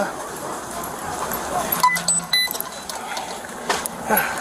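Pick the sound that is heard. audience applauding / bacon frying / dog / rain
dog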